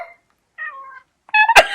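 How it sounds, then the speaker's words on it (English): A cat meows three times in short, separated calls, the last louder and ending in a brief sharp noise, with no talking. "Oh, and here's the cat."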